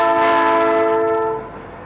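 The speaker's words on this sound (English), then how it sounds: "Please don't honk the horn at me." Train horn sounding close and loud as one sustained chord-like blast lasting over a second, then fading into background rumble.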